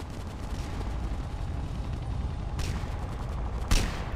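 Gunfire in a multiplayer war video game comes as a dense, continuous rattle of shots under a rumbling battle din, with two sharper, louder cracks near the end and no talking.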